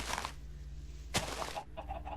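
Minecraft chickens cluck in short repeated bursts with a sharp squawk in the middle, fairly close, with a steady low hum underneath and no talking.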